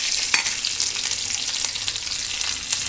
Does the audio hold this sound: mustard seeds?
yes